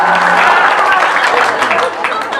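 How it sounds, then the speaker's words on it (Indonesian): A crowd applauding steadily and loudly, dense clapping filling the whole stretch with a murmur of voices mixed in. "Tepuk tangan"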